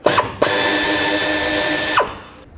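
A ratchet with a 10mm socket backs out the oil dipstick tube bolt on a Chevrolet Express van, a loud continuous buzzing whir lasting about a second and a half between short clicks.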